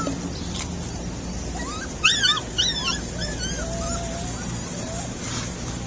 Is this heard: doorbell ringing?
no